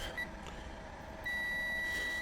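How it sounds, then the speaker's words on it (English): A faint electronic beep chirps briefly, then a multimeter continuity test sounds a steady high-pitched tone continuously over a low background hum, while testing a microscope fluorescent ring light. "So yeah, it is beeping."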